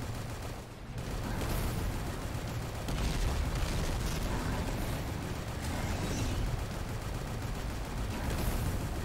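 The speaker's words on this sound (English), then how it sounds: "This missile rifle is insane." A missile rifle fires in the video game ANVIL: Vault Breakers: a loud, dense, continuous barrage of blasts runs through the whole stretch after a brief dip near the start.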